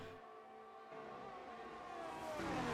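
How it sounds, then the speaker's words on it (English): Formula 1 race car in a video game at the Austin circuit, speeding past with DRS open and slipstream; a steady rising engine whine that grows louder over a few seconds, with no voices. "he's going to fly straight by Straw with the help of some slipstream."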